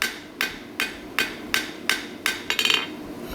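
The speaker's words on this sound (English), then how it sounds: "A little bit of a pushing hammer blow" Eight crisp metallic hammer blows ring out at an even, steady pace while sheet metal is spread, ending in a quick cluster of lighter taps; the blows are close and sharp, with no voices.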